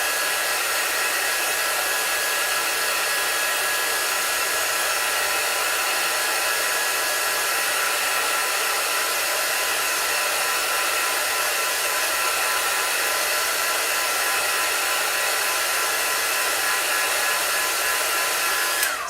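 A hair dryer blows steadily at close range, drying a chalk transfer craft project, a continuous broadband whoosh lasting throughout with no talk.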